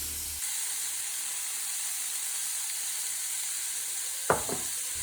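Chickpeas coated with spices and salt sizzling in a pan over medium-high heat give a faint, even hiss, broken near the end by a brief utensil knock.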